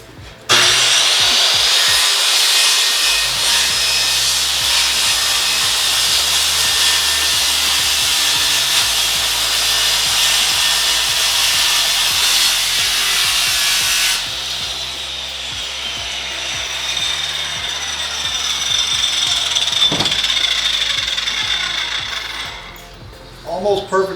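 A power saw cuts through material for a cat door fitted into a window, a loud continuous whining grind close by that drops in pitch and changes partway through before winding down to a stop.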